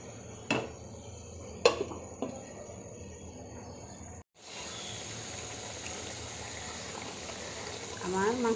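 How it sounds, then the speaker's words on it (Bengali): A lid goes onto a cooking pot of chicken bhuna, with a few sharp metallic clinks close by, then a brief hush and a steady low hiss of the covered pot. "এখন ঢেকে দিব।"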